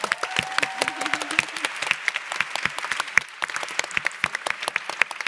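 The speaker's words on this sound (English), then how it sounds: "a round of applause for all the women that work at YC" Audience at the Female Founders Conference 2017 gives a round of applause, a crowd of distinct, crisp hand claps rattling steadily and fairly close throughout, with no talking.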